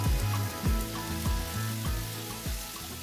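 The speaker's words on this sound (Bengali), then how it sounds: "শোল মাছগুলো সব একটা একটা করে দিয়ে এবার ভালো করে ভেজে নিচ্ছি" Snakehead fish sizzle and crackle steadily as they fry in hot oil in a pan, a close, continuous spatter with no talking.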